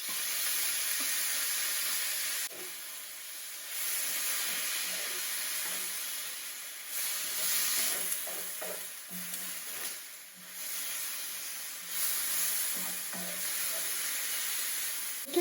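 Peanut sauce sizzles as it hits stir-fried red pepper, zucchini and little tomatoes in a hot pan, a steady loud frying hiss with brief dips and stirring scrapes, no talking.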